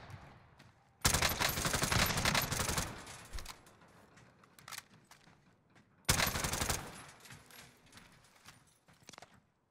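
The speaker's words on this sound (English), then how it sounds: "That guy just got sniped from somewhere else." Sniper gunfire in the Call of Duty Warzone video game, heard as two loud dense bursts of shots around one second and six seconds in, each trailing off into rattling echoes, with no talk.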